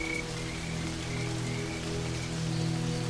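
Sudden heavy rain falls on the Serengeti plains in a dense, steady hiss of drops hitting the ground, with a low droning hum and faint intermittent chirps beneath, close and continuous with no voices.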